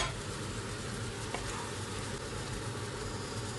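Prawns stirred in a hot pan for sotanghon guisado, a loud continuous sizzle with steady frying crackle and one brief scrape of a utensil midway.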